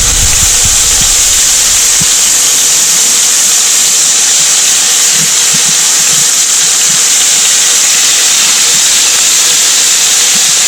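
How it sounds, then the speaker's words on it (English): Freshly caught perch fry in hot oil in a pan, a loud, close, continuous sizzling hiss that stays steady throughout with faint crackles underneath. "Oil's hot and the fish are in the pan."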